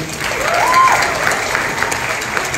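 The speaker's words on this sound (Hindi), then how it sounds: "तो इनके लिए बहुत जोरदार तालियां।" Loud, continuous applause rises from a school audience at a Hindi Diwas celebration for performing students, a dense wash of clapping close to the recording point with a brief vocal tone over it.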